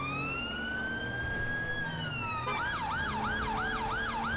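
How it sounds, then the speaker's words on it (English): British-style police siren in GTA 5, a long two-tone wail that shifts into a fast rising-and-falling yelp, loud and constant with a vehicle engine rumbling underneath. "Try and cut that siren here, because I appreciate it is hella loud."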